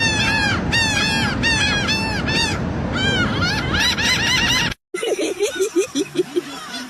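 Seagulls calling loudly, a rapid run of harsh, laughing cackles close by, briefly cut off and then resuming as shorter honking cries.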